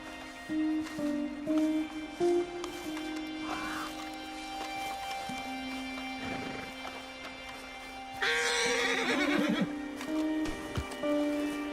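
A horse in the video game Red Dead Redemption 2 lets out a loud, quavering whinny partway through, over steady background music with a few soft hoof-like thumps.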